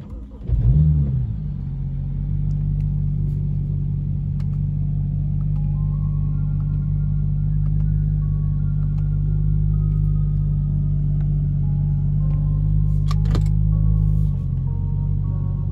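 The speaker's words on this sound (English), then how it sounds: "I'll go ahead and start the car and just move it a couple feet." A BMW E9x-series car engine cranks and catches, then settles into a steady low rumbling idle as the car creeps a few feet, the tone holding close and even until it cuts off near the end.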